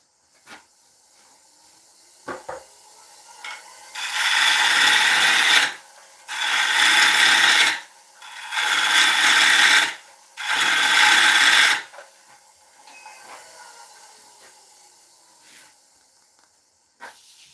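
A turning tool cuts a wooden bowl on a lathe in four loud, even passes of hissing shear about two seconds each, split by short pauses, with faint motor hum and a few knocks before and after.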